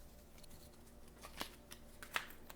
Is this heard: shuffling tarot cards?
yes